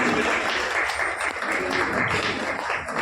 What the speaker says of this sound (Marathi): आपण सर्वांनी जोरदार टाळ्या वाजवूया मृण्मयीसाठी